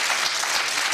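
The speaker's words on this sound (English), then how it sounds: "Give them a big round of applause" Studio audience on a UK television game show applauding the contestants, a dense, steady burst of clapping heard alone, close and full.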